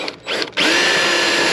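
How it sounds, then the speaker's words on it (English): After a short stuttering start, a power drill drives a self-tapping sheet metal screw while mounting a gas can on a cargo trailer camper, then settles into a loud, steady whine. "I'm going to secure this with a self-tapping sheet metal screw."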